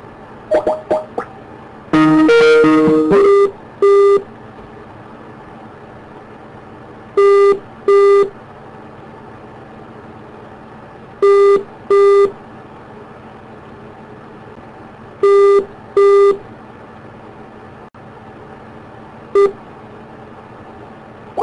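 A telephone busy tone after a call is hung up: loud, clipped beeps repeat in regular paired bursts with silent gaps, preceded by a brief jumble of tones.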